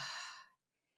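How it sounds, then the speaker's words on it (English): A single deep breath sighed out, a close, breathy whoosh of air that fades quickly into near silence, with no talk. "Here's what it sounds like when you breathe in."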